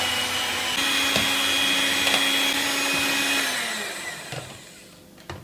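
An electric mixer whirs steadily as it beats 4 egg whites for a Czech lemon cake, a loud, constant motor drone with a faint rattle that winds down and stops near the end.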